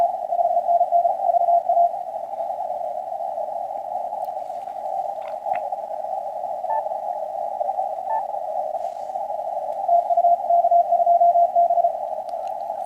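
A weak RTTY signal from a distant DX station on the amateur bands comes through as a steady, faint tone warbling over a low radio hiss, continuous for nearly thirteen seconds with a few brief clicks.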